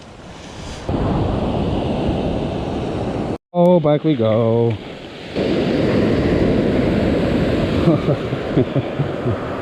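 Waves surge and wash onto a North Sea beach during flounder fishing, a loud rushing roar with gusty wind buffeting the microphone. Someone speaks briefly in a short gap.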